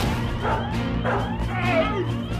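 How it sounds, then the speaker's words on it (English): Dogs bark loudly and close by in a quick run of repeated yips and woofs, with a short whimpering edge in between. "Not dogs! You said there were no dogs!"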